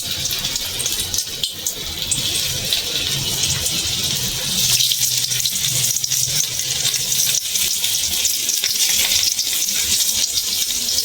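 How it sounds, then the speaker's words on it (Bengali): Cornflour-coated potato pieces fry in hot oil in a pan for chilli potato, a loud, steady hissing sizzle that swells slightly partway through and runs on without talk. "যে পিঠটা কর্নফ্লাওয়ার মাখিয়ে রেখেছি ওই পিঠটা আগে দিয়ে ভাজবো।"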